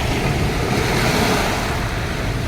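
Steady broadband roar of sea waves washing in along a shore near Santa Cruz, continuous and fairly loud with wind buffeting the microphone, no voices over it.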